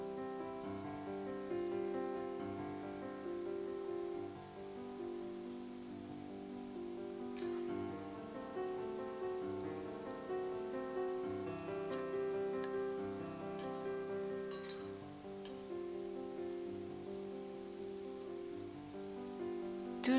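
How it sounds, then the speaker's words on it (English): Noodle strips for sachima deep-fry in hot oil with a steady, dense crackle and fizz like light rain, faint and continuous throughout, with no talking. "Add 1/3 of the noodle strips to fry."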